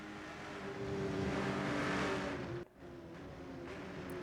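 A race car in the RENNSPORT sim racing game passing another car at over 280 km/h on the Nordschleife, its engine swelling to a loud whine, then a brief dip as it shifts, with the engine note resuming afterward.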